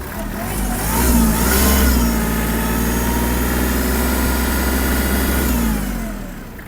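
A diesel Kubota GL-300 mini tractor engine revs up close by, its rough low drone swelling, holding steady at higher speed, then easing back down.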